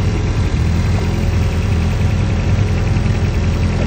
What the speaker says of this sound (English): if you want to see the engine running, beautiful 22 RTE engine, there it is while it's running.